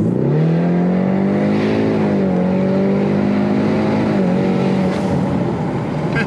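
A Ford Mustang EcoBoost pulls hard from a 30 mph roll, its engine note loud and close, climbing steadily in pitch, dipping briefly at a gear change, then rising again, with no talk over it.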